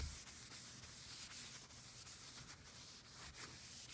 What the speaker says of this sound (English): keep rubbing until you get